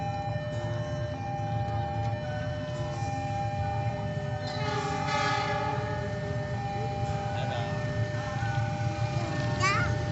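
A train passing a railway level crossing with a gated barrier on a project site in Bekasi, a loud steady rumble of wagons with a horn blast near the middle and a warning tone, under a child's and adult's voices.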